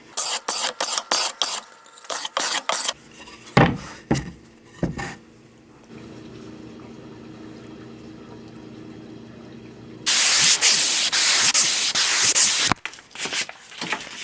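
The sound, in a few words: hand sanding with a sanding block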